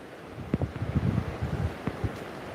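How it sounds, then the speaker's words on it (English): A swollen river in Kingston after Hurricane Melissa, heard as a steady broad rush of flowing water outdoors, with gusty wind buffeting the microphone. "So you should be able to hear the river."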